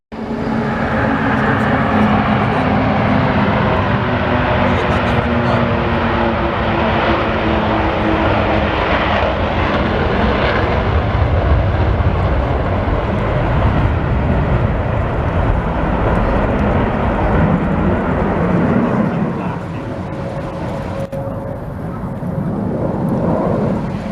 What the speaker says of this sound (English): Now the PC-17 is coming back and the F-18 will coordinate his takeoff